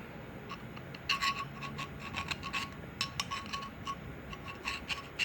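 A hand file smooths an angled metal workpiece surface at a workbench, giving close, repeated rasping strokes in an uneven rhythm with occasional bright metallic clinks between strokes.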